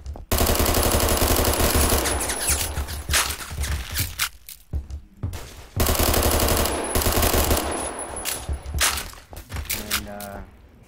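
An AUG A1 assault rifle fires in long full-auto bursts in a shooter video game, loud and close, with rapid rattling reports broken by short pauses and a few scattered single shots.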